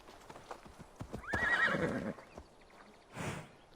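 Hooves clip-clop steadily as a horse lets out a loud neigh partway through, followed by a short snort, in the video game Assassin's Creed Valhalla.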